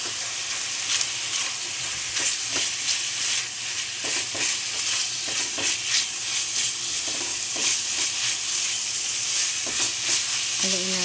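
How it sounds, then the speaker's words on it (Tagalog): Minced pork sizzles loudly in a hot pan while a utensil stirs it, a steady bright frying hiss broken by scraping strokes, close and without speech. "Haluin natin hanggang maging brown."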